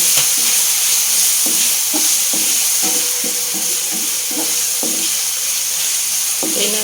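Garlic frying in a pan sizzles loudly and steadily, broken by a series of rhythmic scraping stirring strokes close by.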